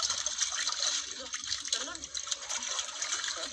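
Water splashing and trickling as it is poured into a basin outdoors, a steady wet hiss running throughout with people talking over it.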